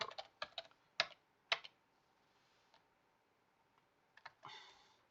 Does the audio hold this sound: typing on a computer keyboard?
yes